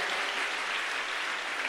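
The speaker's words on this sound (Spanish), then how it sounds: "Démosle aplausos al Señor." Church congregation applauding during a Spanish-language service, a dense steady wash of clapping filling the room without pause and no voices rising above it.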